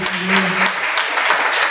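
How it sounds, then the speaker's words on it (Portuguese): A church congregation claps together at a Wednesday evening service, a dense, even burst of applause that briefly overlaps a fading voice at the start. "Vamos dar uma salva de palmas ao nome do Senhor"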